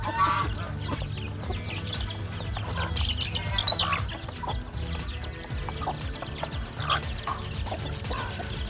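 Chickens cluck steadily on a home farm, with a goose nearby. Overlapping hen calls and clucks fill the whole stretch at close-to-moderate distance, with one louder call partway through. Nobody speaks.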